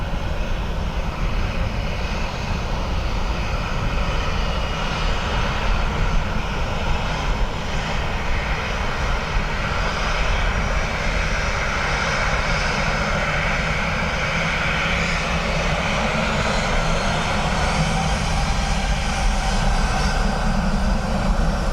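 A Turkish Airlines jet lands on runway 28 left at Dublin Airport in crosswinds, a continuous loud engine roar with deep rumble holding steady throughout.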